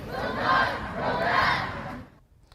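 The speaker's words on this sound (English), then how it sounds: "You heard them chanting, "We will not go back."" Protesters outside the U.S. Supreme Court in Washington chant in unison, two loud rising crowd phrases of massed voices that cut off abruptly.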